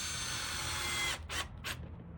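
A power drill drives screws into a cedar sign being mounted at a signpost forest, a steady whir that stops and gives way to two short bursts, close by with no talking.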